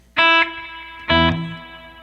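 Two distorted electric guitar notes ring out in turn through full noise reduction, each cutting off abruptly into near silence as the sound stops.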